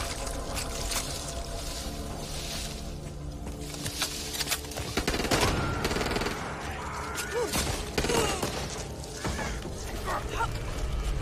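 Rapid gunfire from a Back 4 Blood co-op shooter fills the whole stretch, dense bursts and crackling impacts layered with chaotic game effects, with voices shouting in the background.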